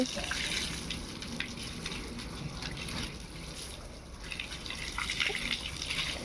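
Plain water, with no soap, is poured over a rooftop solar panel, a continuous splashing and trickling rush close by, with some voices faintly in the background.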